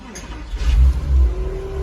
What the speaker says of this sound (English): I will show you if I start the car.